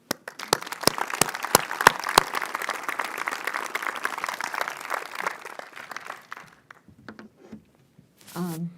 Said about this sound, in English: Can you give me an applause?